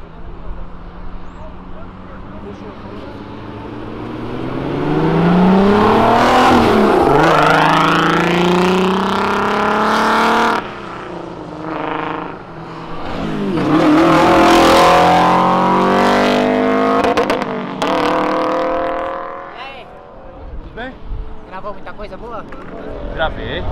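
Cars leave a car meet, led by a heavy Lexus drifting out. Loud engines rev up in rising, sweeping pitches, roar past close by twice, then fade away with quieter engine noise behind.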